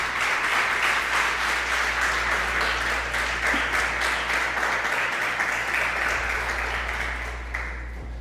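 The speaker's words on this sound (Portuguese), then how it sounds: "Dá um aplauso ao Senhor Jesus." A church congregation applauds in praise of Jesus, steady sustained clapping from many hands filling the room at full volume, with a constant low hum underneath and the applause easing slightly at the end.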